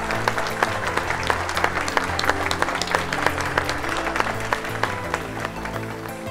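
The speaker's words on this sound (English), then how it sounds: "Let's give them another round of applause." An audience applauds at a recognition ceremony honoring a parent volunteer, sustained clapping with distinct individual claps standing out over a low steady hum.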